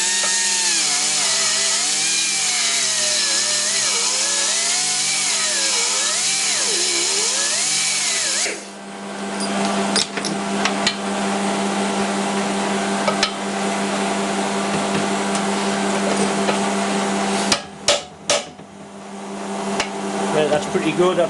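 A power tool cuts the pin out of a burred car lift hook, whining loudly with a wavering pitch for several seconds, then stopping and leaving quieter clanks and knocks of metal work.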